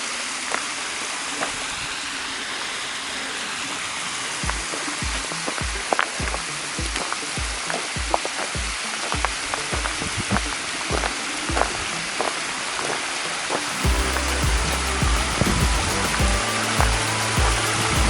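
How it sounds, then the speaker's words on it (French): Water tumbling down a series of small cascades in a gorge, a continuous rushing wash with a few louder splashes, close and steady throughout. "Vous voyez, avec les successions de petites cascades."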